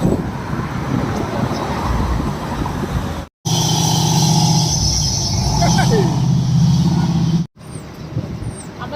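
A number 3 city bus rumbles past on a roadway in America, a loud steady engine and traffic roar with wind noise and a brief air-brake hiss, while people talk over it.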